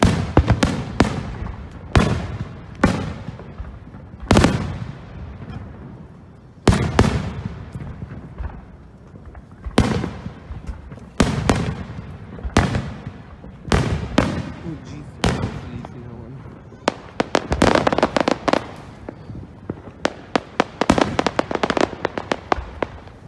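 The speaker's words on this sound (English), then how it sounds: "Is that a double firework?" Fourth of July fireworks go off in a rapid chain, with sharp bangs and crackling bursts arriving irregularly, some spaced apart and some packed into quick runs, loud and fairly close.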